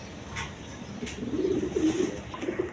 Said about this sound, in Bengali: ওইটা রানিং পেয়ার ডিম বাচ্চা করানো কবুতর দেখেন